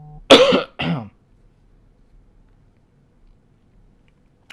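Two sharp, close coughs in quick succession, the first louder, followed by near silence.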